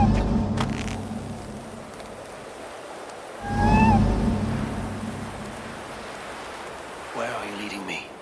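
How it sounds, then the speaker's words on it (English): A short cat meow rises out of the steady ambient wash of Assassin's Creed Valhalla near the middle, with a soft thump and rustle toward the end. "Who put you up here, little cat?"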